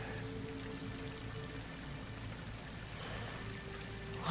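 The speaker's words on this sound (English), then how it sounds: "Water's coming in. From the surface." Water pouring and streaming into an enclosed space in Horizon Forbidden West, a steady continuous rush with a low hum underneath, holding evenly throughout without speech.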